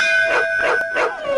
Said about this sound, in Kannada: ಗರ್ಭಗುಡಿ ಒಳಗೆ ನಾಯಿ ಹೋಗ್ಬಿಟ್ಟಿದ್ಯೆ?